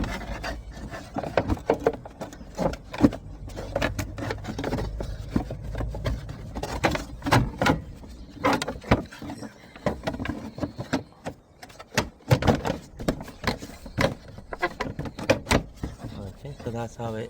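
Plastic wheel arch trim being pushed and rubbed into place on a Chevrolet Aveo, with scraping, creaking and knocking bursts close to the microphone, mixed with occasional talk.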